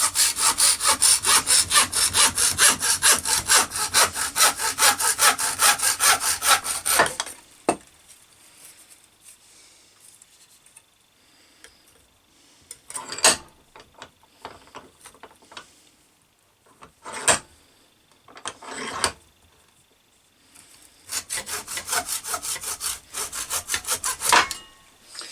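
A Lidl Parkside hacksaw from a multifunction hand saw set cuts a plastic tube held in a vice: a long, loud run of rapid back-and-forth strokes, then scattered short rasps and knocks, and another burst of steady sawing at the end.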